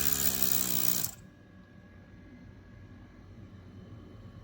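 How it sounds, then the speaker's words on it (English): A 1airbrush airbrush compressor runs at full power, a steady loud tonal whine with a bright hiss that cuts off abruptly after about a second, leaving a faint low hum. "You could hear the sound from the compressor."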